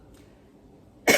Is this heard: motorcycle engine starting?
no